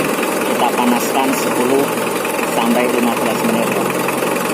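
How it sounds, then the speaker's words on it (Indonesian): A car engine idles steadily while warming up, a continuous close, loud hum with a faint rhythmic knock and no talk. "selanjutnya hidupkan mesin, kita panaskan"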